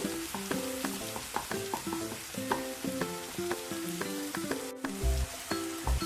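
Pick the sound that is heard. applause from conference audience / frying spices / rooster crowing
frying spices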